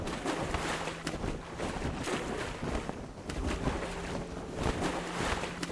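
Boat moving across open water in the survival video game Sunkenland, a continuous rushing wash of water and wind with a low engine-like drone, steady and fairly loud with no talking.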